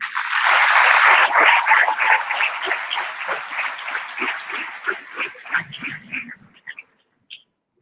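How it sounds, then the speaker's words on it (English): At a medical college graduates' reception, a crowd claps loudly in a burst that thins into scattered individual claps and dies away, with a few faint voices and a last lone sound near the end. "A big round of applause for him"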